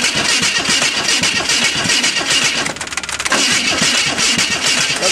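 1926 Hudson engine with dual carburetors and headers cranking over on its starter, a steady rapid churning that stays loud and close, briefly dipping midway before resuming without catching.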